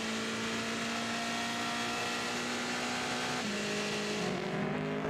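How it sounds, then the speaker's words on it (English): Porsche race cars at the 2017 24 Hours of Le Mans sweep through the Porsche Curves, a continuous droning engine note that shifts pitch as they pass, heard through a steady trackside broadcast wash. "Beautiful watching these Porsches come through Porsche curves"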